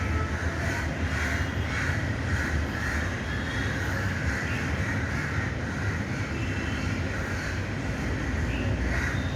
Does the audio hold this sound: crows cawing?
yes